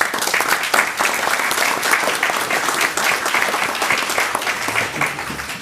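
Sustained, dense applause from an audience at a school district board of trustees meeting, steady and fairly loud throughout with no pauses.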